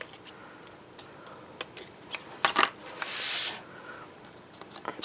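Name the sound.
cutting Graphic 45 paper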